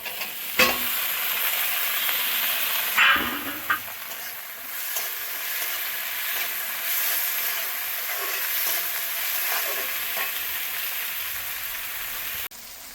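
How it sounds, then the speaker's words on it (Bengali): Capsicum and tomato go into a pan of lightly fried onion, green chilli and garlic, producing a steady crackling sizzle with a few sharp stirring knocks near the start, close and moderate in level. "পেঁয়াজ, কাঁচা লঙ্কা, রসুন একটু হালকা করে ভেজে নিয়েছি। এবার ক্যাপসিকাম আর টমেটোটা দিয়ে দেবো।"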